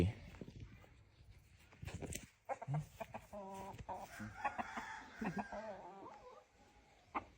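Fighting cocks cluck and call in bursts close by, with a crow-like drawn note partway through, amid scattered outdoor noise and voices at a farmyard.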